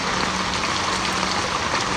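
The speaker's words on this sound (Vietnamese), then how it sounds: "Huế đang mưa to lắm luôn." Heavy rain pours steadily in Hue, Vietnam, a dense, continuous wash of downpour with no breaks, loud and close throughout.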